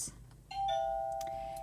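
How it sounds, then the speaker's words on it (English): A classroom doorbell rings once with a clear two-tone chime that sustains and slowly fades, loud and close, with no talking over it. "I ring my doorbell, which sounds like this."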